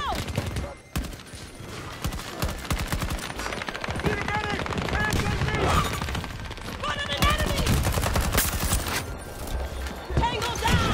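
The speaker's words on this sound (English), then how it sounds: "I shot at least like 5-10 bullets." Rapid gunfire rattles through a Battlefield 2024 Rush match, bursts of shots mixed with game noise while a player talks over much of it.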